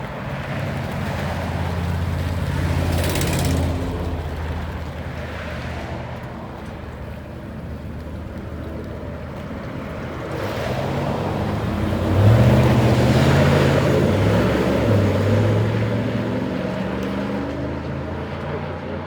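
A 2011 Chevy Silverado 1500 Texas Edition with a 5.3-liter V8, Borla XR1 mufflers and stock converters, rumbles steadily with a deep, loud exhaust note that swells into a stronger rev near the end.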